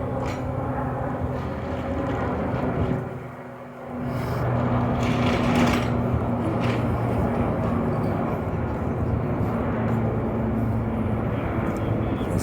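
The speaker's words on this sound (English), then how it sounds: "There's a helicopter flying over." A low helicopter engine drones steadily overhead, its rumble hanging over the ambient noise of a busy downtown street.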